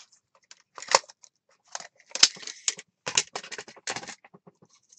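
Scissors snip paper into small pieces for a mini junk journal. There are several crisp, close cuts in short bursts with pauses between them, and no talking.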